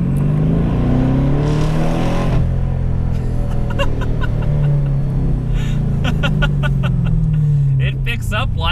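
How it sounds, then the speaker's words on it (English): A Camaro SS hybrid accelerates in second gear with a close, loud engine note that climbs in pitch, while a voice talks over the engine. "It picks up like a regular Camaro SS, which is pretty awesome."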